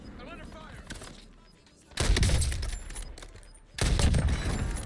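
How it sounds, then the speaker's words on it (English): Sniper gunfire in a video game: two loud, booming bursts of shots arrive about two seconds apart, each ringing on, after a quieter stretch with faint background sound. "we're getting sniped at, dude"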